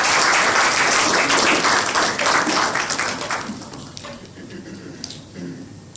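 An audience at a digital identity workshop in Congo-Brazzaville applauds the minister, a dense burst of clapping that starts loud and gradually thins and fades over several seconds.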